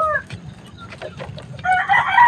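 Chickens in a small backyard coop, with roosters crowing loudly close by near the end after softer clucking and scattered calls, heard alone without talk.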